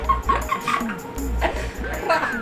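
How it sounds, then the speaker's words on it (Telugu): A small dog whimpers and lets out several short, high yips in quick bursts, close by, with people's voices also heard. "వీడియోలో ఉన్న కుక్కే క్యూట్ గా ఉంది మామ"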